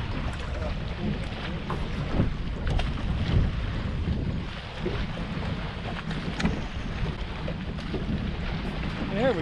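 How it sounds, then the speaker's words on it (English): Strong wind buffeting a bass fishing boat on Lake Lanier in winter, a steady loud roar with microphone rumble and gusts, water and hull noise beneath, a voice briefly heard. "Man, that wind."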